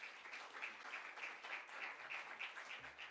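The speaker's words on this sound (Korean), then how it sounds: "박수로 교수님 청하겠습니다" At a conference for ministry workers, an audience claps to welcome a professor before his lecture. The clapping is faint and distant, with a steady, rhythmic pulse and no talk.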